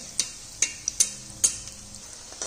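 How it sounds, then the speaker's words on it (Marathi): A chapati snack shallow-fries in oil on medium gas, with a faint steady sizzle and a few sharp ticks and clicks spaced irregularly, close with no speech. "तर इथं मध्यम गॅसवरती लालसर होईपर्यंत आपण ह्याला तळून घेणार आहोत"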